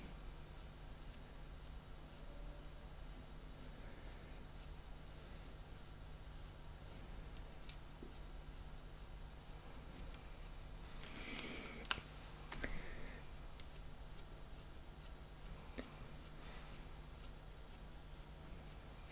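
Graphite pencil drawn very gently across paper with the softest pressure, rendering soft fur, giving a faint, steady scratchy whisper over a quiet background with a brief louder stroke near the middle.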